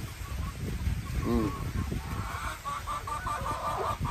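Chickens and geese clucking and honking in a morning yard, a few calls standing out over steady background noise while someone talks throughout.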